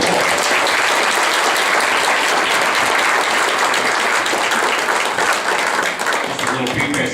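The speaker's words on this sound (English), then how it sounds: "Let's give them another round of applause." Dense, steady audience applause fills a VIP reception room, many hands clapping continuously at full volume for about seven seconds, tapering slightly at the very end.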